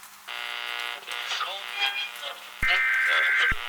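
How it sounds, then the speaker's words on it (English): Emergency interruption alert tone cutting into a local radio broadcast. Two steady buzzing tone bursts are separated by warbling, voice-like broadcast sound, and a sharp click marks the start of the second, louder tone. "This is not a full EAS tone, but it's close. It's one of those emergency interruption feeds that piggybacks on local radio."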